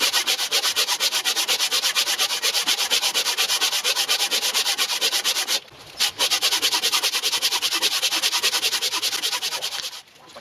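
80 grit aluminium oxide cloth-backed tape rubs across a metal edge on a milling table and vice being restored, a loud, close, rhythmic rasping of quick back-and-forth strokes with two brief pauses.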